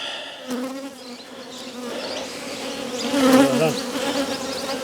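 Bees buzz around old black comb packed inside a barrel drum. The hum is continuous and dense, close and droning, and it swells slightly partway through.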